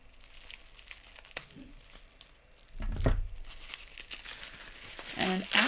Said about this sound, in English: We're gonna snip this one.